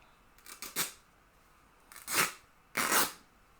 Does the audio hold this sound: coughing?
no